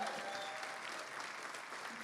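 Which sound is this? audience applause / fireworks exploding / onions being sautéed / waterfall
audience applause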